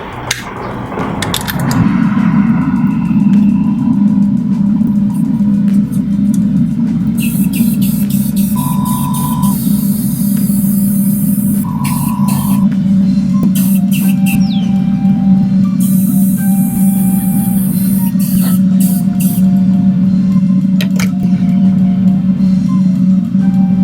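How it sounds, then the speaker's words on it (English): An airbrush sprays Mr. Base White 1000 primer onto a Sculpey clay sculpture in a spray booth, hissing steadily over a constant mechanical hum, with several brighter spraying bursts standing out partway through. "So now I'm going to airbrush this with The Mr. Base White Primer 1000 grit"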